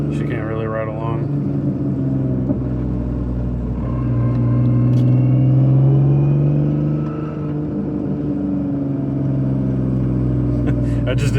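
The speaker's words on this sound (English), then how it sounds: "I'm going to do a little pull here" A 2004 Lexus IS300 drift car accelerates in a pull, the engine note rising and swelling loudly near the middle before easing off again, heard from inside the car.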